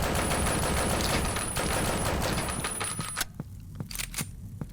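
A super shotgun double barrel fires in the retro first-person shooter HellHunt, with dense overlapping gun blasts and game effects, then a handful of separate loud shots ringing out.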